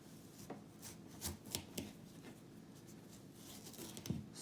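A knife slices through peeled squash or zucchini on a cutting board, giving several soft, close chopping taps at an uneven pace, fairly quiet, with no talking.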